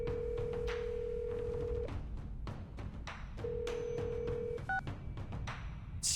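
Steady electronic phone tones from the video game Reverse: 1999, two long sustained beeps separated by brief higher dial blips, set over a busy game soundtrack.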